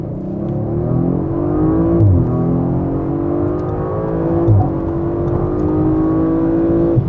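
An Audi RS5 Coupé accelerates hard from 40 km/h on a wet road, its engine note rising steadily through the gears with two brief dips at shifts, loud and close from inside the cabin.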